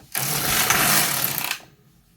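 A knitting machine runs steadily for about a second and a half as a knitted pocket drops off it, a dense mechanical whir that starts abruptly and cuts off into quiet, with no talking.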